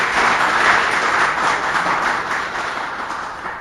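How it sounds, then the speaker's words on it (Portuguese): Applause for a speaker at a hydrography lecture, a full audience clapping steadily and densely, gradually fading over a few seconds. "peço uma salva de palmas ao nosso palestrante"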